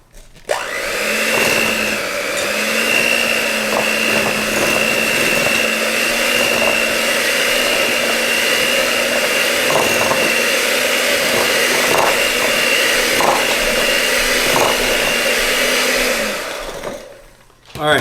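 Electric mixer blending softened butter and sweetener for keto almond cookies, a steady whirring motor hum running without pause for most of the clip, with small clicks and bumps of the beaters against the bowl.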